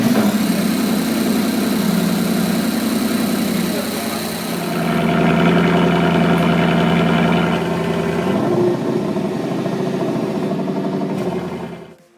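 A 2018 Lexus LC 500 with a 5.0 liter V8 idles steadily nearby, a continuous low rumble that shifts slightly partway through, with no talking over it.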